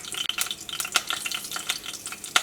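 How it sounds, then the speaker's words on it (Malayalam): Mustard seeds crackling and popping in hot coconut oil in a home kitchen pan, a dense steady sizzle broken by sharp pops, close and fairly loud, with no talking. "വെളിച്ചെണ്ണ നന്നായി ചൂടായിട്ടുണ്ട്. ഫസ്റ്റ് കടുക് പൊട്ടിക്കട്ടെ."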